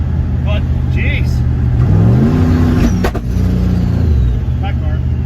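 A turbocharged LS engine in a Caravan accelerates under boost, rising in pitch as it revs, loud and close from inside the cabin. A tone shifts partway through, and road noise continues underneath.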